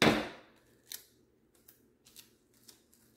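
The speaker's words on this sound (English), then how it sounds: "get my tape, if I can get it off of here" Packing tape pulled off its roll while packing vinyl records for shipping: a loud, close tearing rip at the start, then several short, fainter crackles and picks as the tape is worked free, with no talking.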